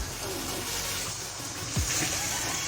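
A steady watery rush and sizzle as water is poured into a hot pan of chicken tikka karahi, with a faint voice underneath.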